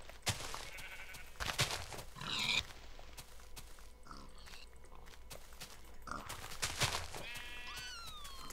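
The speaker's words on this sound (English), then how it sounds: "Go shave the sheep." Sheep bleating in the Minecraft video game, several short calls spread across the stretch amid game noises and other animal sounds, with people chatting faintly now and then.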